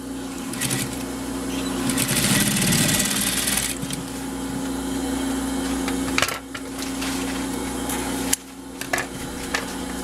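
A sewing machine stitches synthetic leather for a crossbody bag, giving a continuous close whirring drone with a fast needle rattle. The sound breaks off briefly a couple of times before the running resumes.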